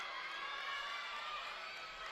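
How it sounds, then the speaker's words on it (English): Team and crowd cheer and shout after a gymnast sticks the landing of a double layout at a college gymnastics meet, a steady, fairly faint wash of voices filling a large arena. "You can hear the team and the crowd."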